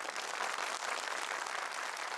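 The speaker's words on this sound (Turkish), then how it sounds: "bir alkış daha" Studio audience applause at a televised Quran recitation competition, a steady dense wash of clapping held at an even, moderately distant level throughout, with no voices over it.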